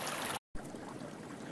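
Water running near a beaver dam on a winter trapline, a soft steady rushing and gurgling flow heard close, broken by a brief cut near the start.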